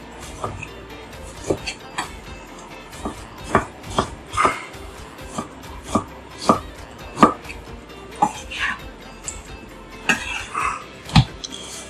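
Knife chopping fresh tomato on a cutting board in a home kitchen, with irregular sharp taps of the blade striking the board, fairly close and clear, with quiet room tone between cuts.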